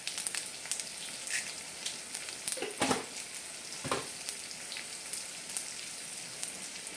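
Mustard seeds, cumin and urad dal frying in hot oil for a South Indian tempering, giving a steady crackling sizzle with scattered sharp pops and two louder bursts, close and without any talk.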